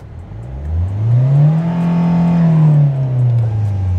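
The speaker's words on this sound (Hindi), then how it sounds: "कार को करते हैं लॉन्च। Raving till 5000 RPM" A Hyundai Venue's 1.5-litre CRDi diesel engine revving hard at launch toward 5000 rpm, its loud droning note climbing, holding steady, then easing off, heard close from inside the car with the windows down.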